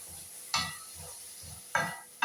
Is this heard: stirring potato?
yes